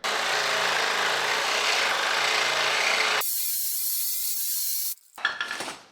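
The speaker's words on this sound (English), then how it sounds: "Just finishing cutting up this lower control arm to get it out" A cutting tool slices through the lower control arm of a 4Runner with a loud, steady grinding rasp, then switches to a high whining tone before ending in a few rough scraping bursts.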